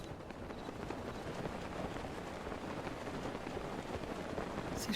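Steady rain in the Breath of the Wild video game, a dense constant hiss and patter that stays even and moderately quiet throughout, with no voices.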